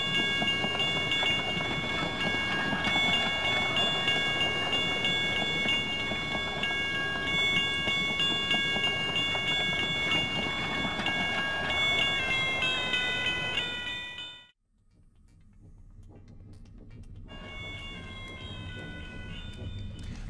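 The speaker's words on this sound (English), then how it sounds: "Let your ears tell you just when the train passes the crossing." A train passing a level crossing while the crossing bell rings in steady tones that bend in pitch as it goes by, followed by a sudden brief dropout and then quieter ringing.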